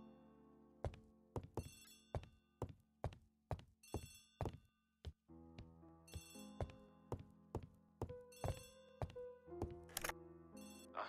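Old-fashioned telephone bell in a 1930s English detective's flat, ringing in repeated bursts of sharp metallic trills separated by short gaps, loud and close with no talk over it.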